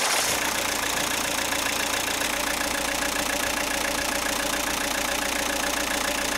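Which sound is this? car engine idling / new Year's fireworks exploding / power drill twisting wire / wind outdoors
car engine idling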